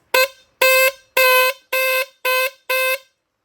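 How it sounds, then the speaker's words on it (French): Six loud, evenly spaced blasts from a car horn under test on a TR7 V8, each lasting about a quarter to a third of a second, with short gaps between them and no talking. "J'ai 4 klaxons."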